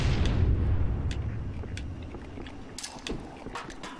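A grenade blast in Halo: The Master Chief Collection multiplayer: a loud, low rumbling boom opens and slowly decays under continuing game noise, with a few sharp cracks of gunfire later.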